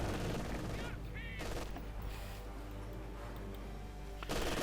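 Machine gun fire in the real-time strategy game Company of Heroes 2, a dense continuous clatter of bursts over a loud battlefield din, fairly faint overall with the firing running throughout without pause.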